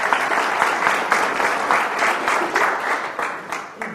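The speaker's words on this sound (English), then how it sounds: "Give him a round of applause by way of encouragement." A live audience at a talk applauds a volunteer in a dense, steady burst of clapping from many hands, fairly loud and sustained, with no talking over it.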